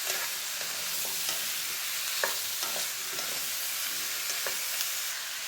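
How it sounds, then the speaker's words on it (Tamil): Pumpkin pieces sautéing in a small amount of oil for a buttermilk kuzhambu give a steady soft sizzle, with a few intermittent stirring scrapes and light clinks against the pan throughout. "இந்த பூசணிக்காயை நம்ம இந்த மாதிரி எண்ணெய் கொஞ்சமாக ஊற்றி வதக்கிக்கலாம்."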